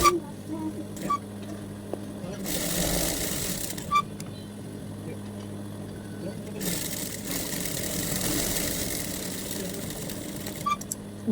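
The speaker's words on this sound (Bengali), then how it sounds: "এখন হচ্ছে আমি এভাবে হাই সেলাই করে নেব" A sewing machine stitching the hem of a child's Afghani pajama, running in two sustained bursts with pauses between, close by, amid quiet room noise.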